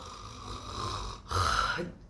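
A voice imitates snoring: two rough, drawn-out snores, the second louder and raspier, close up with no other sounds.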